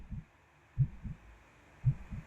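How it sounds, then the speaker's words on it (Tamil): A low, muffled heartbeat from a living planet in the Solar Smash video game thumps in paired lub-dub beats, three slow cycles, soft and deep over a faint steady hum. "ஹார்ட் பீட் இருக்கு பக்கலே, கேக்குதா?"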